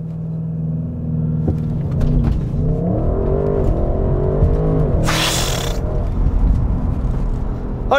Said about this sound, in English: So then, shall we start with a launch control?